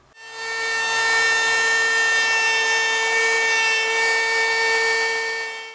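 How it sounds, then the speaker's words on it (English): Router making a clockwise climb cut around an inlay in veneer for a sunburst table top, a loud steady high-pitched whine held for about five seconds, close by with no voices. "I'm going to make a climb cut. I don't want to chip any of this out, so I'm going to go clockwise around this"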